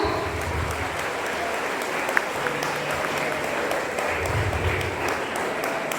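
Audience at a school Labour Day event applauding, a dense steady wash of clapping that carries on throughout.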